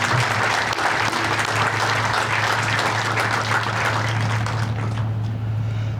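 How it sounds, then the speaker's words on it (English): An audience at a building dedication ceremony applauds an architecture firm and a construction manager, loud sustained clapping over a steady low hum that fades slightly toward the end. "Join me in a round of applause for these two entities,"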